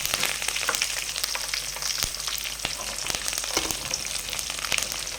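Garlic, mustard seeds and curry leaves splutter and crackle steadily in hot oil for a mango pickle tempering, with dense close sizzling and sharp pops throughout and no voices.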